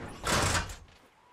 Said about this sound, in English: Disable door sound, please